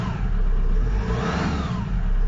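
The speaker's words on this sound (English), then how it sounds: "Lots more responsive on the throttle now." A car engine with a freshly repaired misfire revs up and back down through a smooth rising and falling whine. It sounds close and loud, with no speech.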